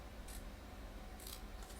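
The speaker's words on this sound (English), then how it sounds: "And now I'm just going to take my scissors" Scissors snip through a craft card for a triple panel slide card, giving two or three short, crisp cuts that sound close and quiet.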